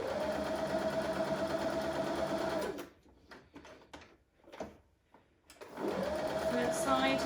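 A sewing machine stitches fabric with a 1/4 inch seam allowance, running steadily and loudly, pausing in the middle while the needle is turned at a corner, then running again.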